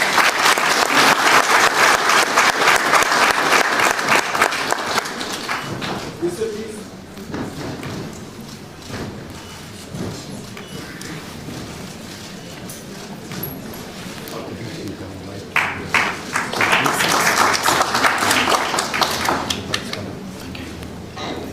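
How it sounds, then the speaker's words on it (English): Loud applause from a crowd at a government handover ceremony for a ministry docket, swelling at the start, easing through the middle and rising again near the end, with bumps, thuds and voices mixed in. "Let's have a round of applause."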